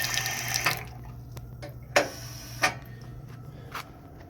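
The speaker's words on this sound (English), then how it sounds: "Sinks, or a sink, or a water fountain that people use as a sink." Water runs steadily from a campground sink or water fountain in a low, even hiss, with a few sharp clicks and knocks sounding over it.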